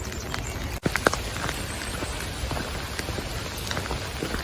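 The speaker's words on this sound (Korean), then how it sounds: "갑자기 비가 와서 좀 당황했나 봐요." Rain falling on the Camino de Santiago pilgrimage trail in Spain, a dense close patter of drops striking the ground and gear, steady throughout with a few sharper taps and one brief dropout.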